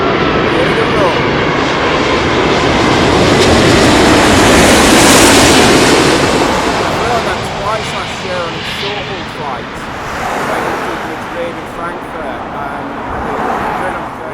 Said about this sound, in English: British Airways A380 coming in from Dallas.